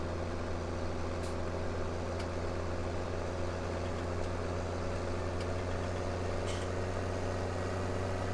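A tractor engine in Farming Simulator 17 idles at a steady low hum, continuous and unchanging, with faint clicks over the top and no talk.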